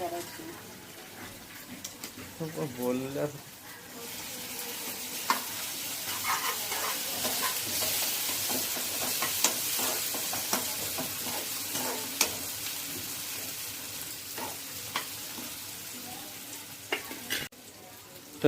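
Garlic paste frying with steamed tender cashew nuts in a pan, a steady soft sizzle with occasional stirring clicks, close but fairly quiet, with someone talking at the start.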